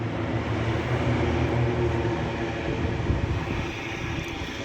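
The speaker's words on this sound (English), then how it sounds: "I'm pretty sure that that is my cargo plane" Basler cargo plane taxiing at an airfield, a loud, steady broadband engine roar that fills the clip without a break.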